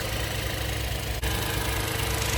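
Hyundai Bayon 1.0 turbo engine idling at normal revs, a steady low hum with a faint rhythmic pulse, close and constant, with one tiny dip midway.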